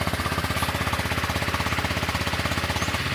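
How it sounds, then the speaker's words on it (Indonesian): A Honda Vario 125 scooter engine runs at a steady, rapid idle, close and loud, with an even pulsing chug throughout. "saya hidupkan mesinnya."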